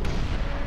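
Explosions in the game ELEX make a dense, loud, continuous blast roar with rumbling low end, filling the whole short moment without any speech.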